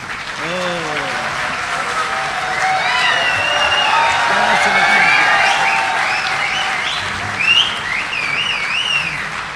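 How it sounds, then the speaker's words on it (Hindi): Loud, sustained audience applause at a mushaira as Dr. Rahat Indori is welcomed to the stage, dense clapping filling the whole stretch with whistles and cheers rising over it and crowd voices mixed in. "ज़ोरदार तालियों से इस्तकबाल कीजिए जनाब डॉक्टर राहत इंदौरी साहब।"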